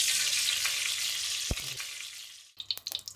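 Ghee poured into a hot pan for cooking aloo anday, giving a loud hiss that fades over about two and a half seconds, then a few short crackling pops.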